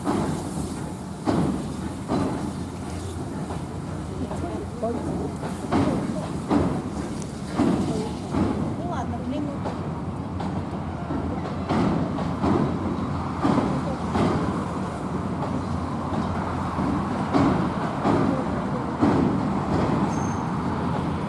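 A train clanks onto a railway spring bridge in Scotland, with repeated metallic clanks and rumbling over steady road traffic noise, fairly loud and continuous throughout.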